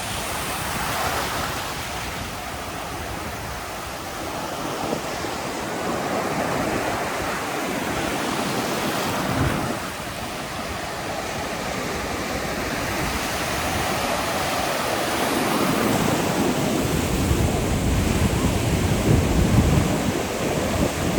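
Ocean surf breaking along a rugged beach on an exposed coast: a continuous, loud roar of waves with wind buffeting the microphone, building in strength toward the end, with no voices.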